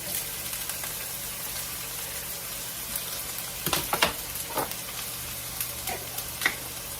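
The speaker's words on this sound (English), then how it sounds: "So I'm going to get the onions and garlic going on the stove and get that ground beef going" Onions fry in olive oil on a stove, a steady hissing sizzle over a low hum, with occasional clinks and scrapes of a utensil stirring the pan.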